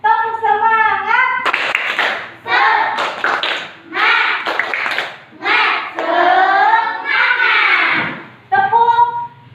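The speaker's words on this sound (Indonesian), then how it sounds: "untuk selanjutnya kita tepuk semangat dulu. Tepuk semangat." A primary school class performs the 'tepuk semangat' rhythmic clapping chant, with sharp group claps in a patterned beat between voiced chant phrases of children and a teacher, close and loud in a classroom.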